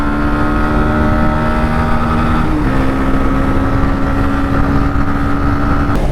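A 125cc motorcycle engine in a drag race between a Xtreme 125R, Pulsar NS125 and KTM RC125, holding a steady loud drone with one brief dip, heard alone.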